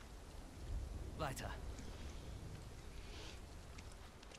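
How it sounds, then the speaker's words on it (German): Steady hiss of rain falling in the video game Final Fantasy VII Rebirth, fairly soft and continuous, with a brief sharper swish near the middle. "Es regnet."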